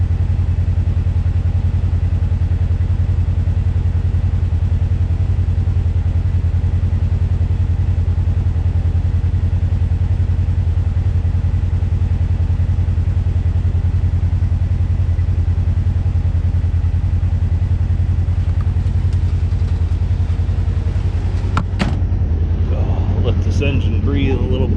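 A parked Polaris General XP 1000 engine idling with a steady low rumble, a radiator fan running, and a brief clatter near the end as someone talks over it.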